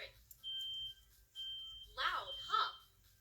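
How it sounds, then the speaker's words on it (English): A home smoke alarm sounds two steady high-pitched beeps in a row, loud and close, followed by brief excited children's voices. "Know the sound of the smoke alarm and what to do when you hear it."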